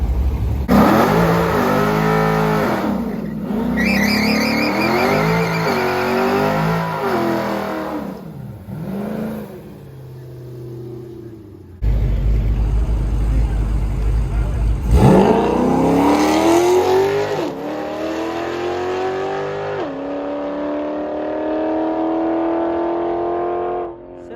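A modified Dodge Challenger Hellcat with a built 6.1 engine revs hard on a race track and climbs through several gears, loud and close, with a brief lift and a second hard acceleration building again.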